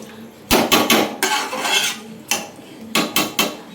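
Biryani rice being stirred in a metal pot, with a spoon clattering and scraping against the sides in several bursts of sharp clinks and rubs, close and fairly loud, with no voices.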